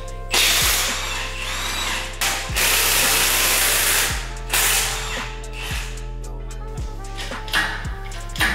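A ratchet clicks in repeated bursts while bolts are tightened during a 1JZ engine swap into an IS300, loud and close, with a steady low hum behind it.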